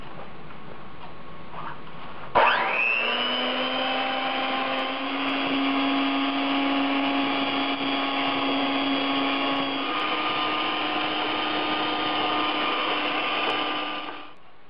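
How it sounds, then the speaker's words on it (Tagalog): A handheld electric mixer starts abruptly and runs steadily with a loud, even motor whine, beating eggs with granulated and light brown sugar for carrot cake, then winds down near the end; no talking. "gagamit tayo ng isang electric mixer and paghahaluin natin yung granulated sugar at yung light brown sugar"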